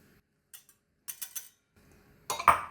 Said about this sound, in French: je vais commencer par mélanger ensemble les amandes, la farine et les pistaches